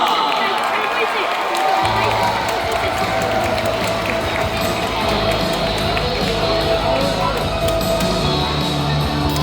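A baseball stadium crowd at an LG Twins game claps and cheers for a ceremonial first pitch by a comedian, a broad roar of applause and shouts with an announcer's voice over it.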